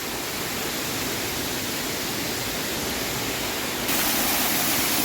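Waterfall at Murga Mahadev temple, a dense, continuous rushing roar of falling water, loud and unbroken, with no voices.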